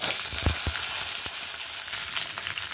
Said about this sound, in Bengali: ফোড়নটা ভাজা হয়ে গেছে, এবার আমড়াগুলো দিয়ে দিচ্ছি।